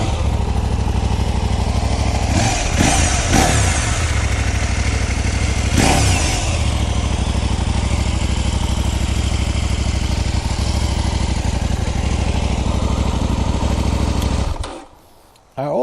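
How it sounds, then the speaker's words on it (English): A two-cylinder KTM 790 Adventure S motorcycle engine from 2019 idles steadily and close by with a low, even chug, a couple of brief revs early on, then cuts off near the end. "let's listen to the engine"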